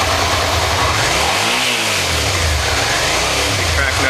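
A car engine revs up and falls back in a broad swell, loud and close, over a steady running drone that fills the whole stretch, with no talk over it.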